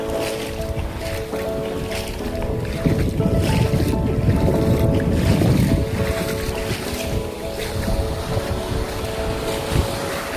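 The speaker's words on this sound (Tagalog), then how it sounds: "ay malakas yung balod dyan" Strong sea waves slosh and crash steadily around a small fishing boat, with a continuous engine drone and wind in the background throughout.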